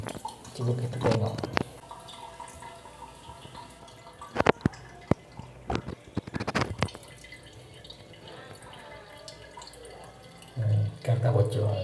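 A water tap being opened after a threaded pipe joint has been sealed with white plumber's tape, with water splashing and dripping into a sink in bursts among handling knocks, alongside someone talking.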